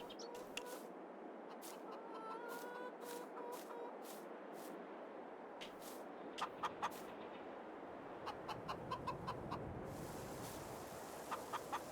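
In Farming Simulator 22, chickens in a coop on a farm cluck quietly and steadily in the background, with occasional sharper clucks and a few brief clicking game sounds on top.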